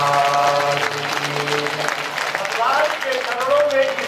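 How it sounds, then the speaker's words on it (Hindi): Audience clapping at a Bhagavat Katha religious gathering, a dense crowd applause close by, mixed with chanting or voices and tonal music throughout. "अभी आप ताली बजा रहे"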